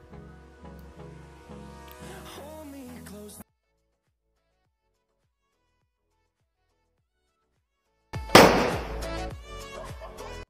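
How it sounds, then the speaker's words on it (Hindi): A Diwali firecracker, a tota bomb, goes off outdoors with a loud, sharp burst and crackling scatter after a long silence, following a stretch of earlier talk. "हम ये तोते बम को आग लगाते हैं, ठीक है। तो इसका धमाका देखते हैं कि कैसा होता है"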